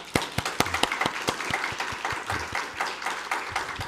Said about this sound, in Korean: 좋은 목사님 되라고 격려의 박수 한번 보내겠습니다